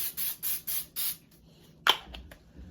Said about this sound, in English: Spray my cookie pan.